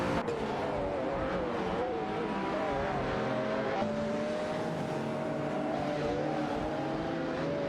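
Several race car engines, including a Lamborghini Diablo SV and a Porsche 959, roar continuously in a racing video game, with shifting engine pitches layered close together as the cars battle side by side throughout.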